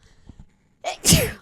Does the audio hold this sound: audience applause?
no